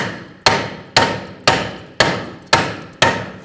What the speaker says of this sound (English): If it's stuck on there, just use a hammer. Just give it a tap.